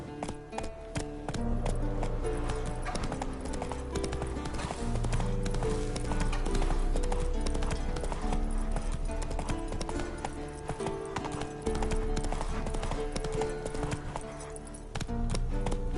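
Steady clip-clop of a galloping horse's hooves in The Witcher 3 on PS5, a continuous loud rhythmic beat layered over game music and ambience for the whole stretch.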